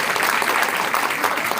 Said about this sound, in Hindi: तालियां तो बजनी चाहिए ना